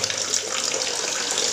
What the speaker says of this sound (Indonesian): Walaupun ini enggak ada filternya kawan-kawan, cuma memakai pancuran pompa aja kawan-kawan.